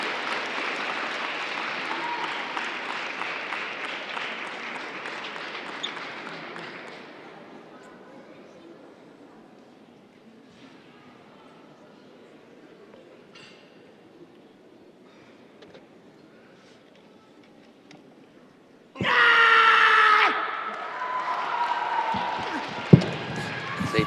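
Crowd at a World Wushu Championships taolu event applauds and cheers loudly for a Russian athlete, fading to a quiet hall before another sharp burst of applause and shouts near the end.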